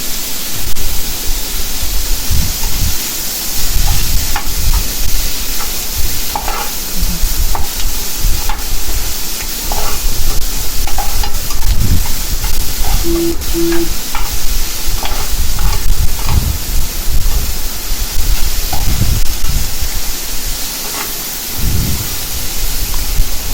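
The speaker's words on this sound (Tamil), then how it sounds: "வெங்காயம் வதங்கிறதுக்கு கொஞ்சமாக உப்பு. இது நல்லா வதக்கணும்." Onions sautéing with a little salt in a pan for pepper chicken, a steady loud sizzle with stirring scrapes throughout, no voices.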